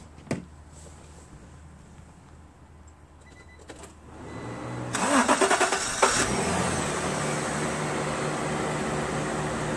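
A Craftsman LT1000 lawn tractor with a Briggs 21 HP opposed-twin engine cranks and catches after a few seconds of quiet clicks and clunks, then settles into a steady, fairly close idle that runs to the end.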